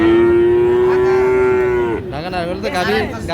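At a rural livestock market selling Friesian and cross-breed bulls and calves, a single cow gives one long, loud, close moo lasting about two seconds, then breaks into a short wavering tail against background murmur.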